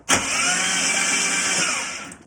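A car engine freshly rebuilt after camshaft damage runs with only the main engine fitted and the auxiliaries off, a close, steady, loud roar that holds evenly for a couple of seconds before easing off.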